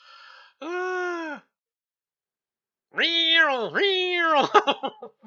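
A cat meows loudly several times, two long drawn-out yowls separated by silence and then a rapid run of shorter, broken meows, with a brief exclaimed voice near the start.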